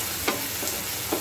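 Chopped onion and tomato fry in a pan with a steady broadband sizzle, broken by a few soft stirring scrapes, close and continuous with no talking.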